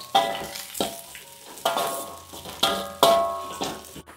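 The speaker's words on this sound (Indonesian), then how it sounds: "dan jahe langsung kita tumis" Garlic, shallots and ginger sautéing in a pan for a village-chicken dish, a steady sizzle with a spatula scraping and stirring in a regular rhythm, close by.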